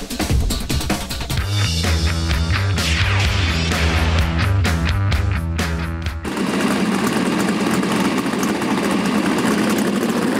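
A small-block racing powerboat engine roars at close range, loud and steady with a rising, revving tone, then drops abruptly into a rougher, sustained drone. No voices are heard.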